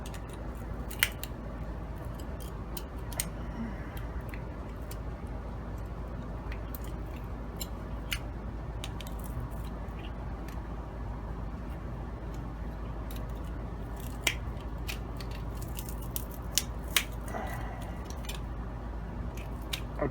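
Metal pliers pinch and tear at the folded edge of a weighted silver thrift-store piece, giving faint scattered clicks and small crunching snips over a steady low background hum.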